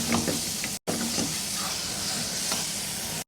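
Onion masala and curry leaves hit hot oil in a pan, giving a loud, steady sizzle and hiss with a few crackles and one very brief drop to silence.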